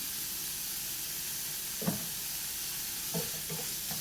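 Ginger garlic paste and onions frying in a pan, a steady sizzle throughout with a few soft stirring scrapes and clacks, close and moderately loud.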